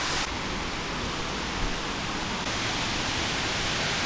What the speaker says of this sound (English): So the little waterfall we saw from the Twin Falls lookout goes over the cliffs just over there.